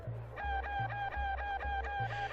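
A chicken in the video game Secret of Evermore gives a string of short, rhythmic clucks, about six evenly spaced synthetic bursts that sit close and clear over a low repeating backing tone.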